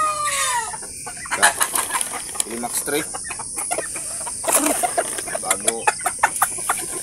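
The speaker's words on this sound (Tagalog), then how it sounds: "dito tayo sa ating manok ngayon." Backyard chickens cluck in a steady, close chatter at feeding time, with short bursts that grow quicker near the end while someone talks over them.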